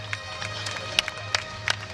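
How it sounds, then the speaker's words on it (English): Audience clapping at a PRIDE Bushido 6 mixed martial arts event, scattered claps and a low crowd rumble from the arena, with sharper individual claps standing out over steady background noise. "the audience is clapping, so are we"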